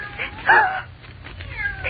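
A cat meows once, clear and close, in a radio drama, with a fainter mewing cry near the end over a low background hum.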